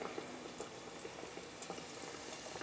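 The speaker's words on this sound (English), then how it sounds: "baste them while they're frying" Beignets fry in hot oil with a steady, faint, dense crackle and bubbling that carries on evenly without a pause.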